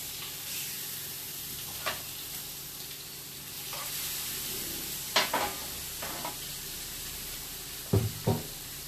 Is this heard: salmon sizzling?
yes